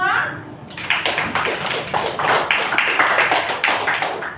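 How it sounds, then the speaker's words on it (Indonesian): Applause from a university classroom audience for a presentation group, a few seconds of brisk, fairly close clapping from a modest crowd, with voices mixed in. "berikan aplaus dulu untuk kelompok 2"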